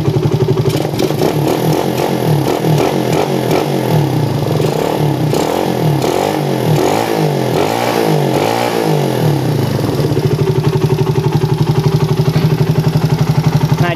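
A standard-spec motorcycle fitted with a PE28 TK racing carburetor and a custom head nozzle runs close by, revving up and down in repeated swells before settling into a steady, loud idle, with no voices.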